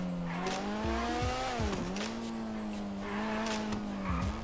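An engine drones in a GTA V street race, its pitch rising and falling as it revs and shifts gears, with brief tire squeals and a steady loud hum throughout.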